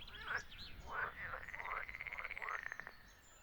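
A frog croaks several times close by, a series of rasping calls with rapid pulsing trills, heard alone against a quiet background.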